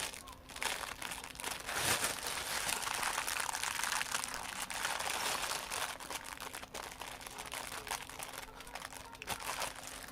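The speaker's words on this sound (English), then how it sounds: "I got all this paper right here." Packing paper from a jewelry haul crinkled and crumpled by hand, close and continuous rustling with occasional sharper crackles, lasting the whole stretch.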